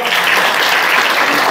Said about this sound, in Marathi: आजच्या कार्यक्रमाचे अध्यक्ष आदरणीय टाळ्या वाजवा